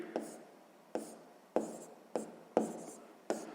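Handwriting during a sixth-grade maths exercise: a pen scratches on paper in six short strokes, each a sharp onset that fades, quiet and close with no voice.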